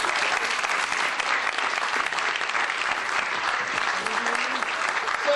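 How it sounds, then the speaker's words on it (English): An audience at a mind reader's stage show applauds as a volunteer comes up, a full, even wash of clapping that holds steady and close throughout, with a faint voice briefly underneath. "A nice round of applause."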